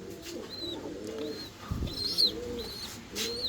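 Soft, low pigeon coos rumble in the background, joined by a few faint higher chirps and a brief flutter.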